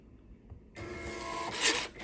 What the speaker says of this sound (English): So that should now go to this printer.